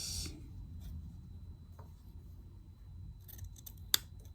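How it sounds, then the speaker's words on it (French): Scissors cutting fabric for an ironing board cover, a few soft snips and rustles close by, ending in one crisp sharp snap. "l'arrêt sera ici et je vais couper"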